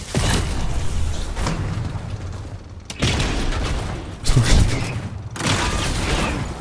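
Explosions in a video game with a Recycler weapon: bursts of booming, crackling blasts in rapid succession, loud and close, with brief quiet gaps between volleys.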